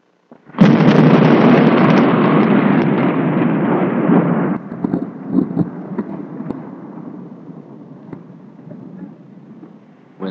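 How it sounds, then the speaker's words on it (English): Loud rolling rumble of thunder bursts in suddenly and roars for about four seconds, then drops to a softer, lingering rumble with scattered low crackles that slowly fades. "It's supposed to be the sound of thunder."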